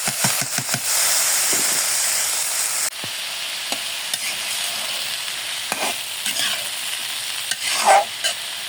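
Banana blossom fries in a hot pan while being stirred, a loud continuous sizzle broken by scraping utensil strokes and clatters, close and alone with no voices.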